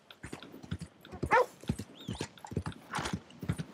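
A horse's hoofbeats clip-clop in a quick, uneven rhythm through a Red Dead Redemption 2 game scene, with snorts and a brief whinny among the steps, moderately loud.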